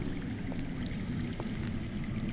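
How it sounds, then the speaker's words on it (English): Underground water flows with a continuous low, rushing wash and faint trickling splashes, a steady murmur with no voices, in the Game of Thrones Telltale video game. "That's water. I hear water. From underground?"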